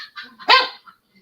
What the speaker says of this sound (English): Hey, you hear the dog?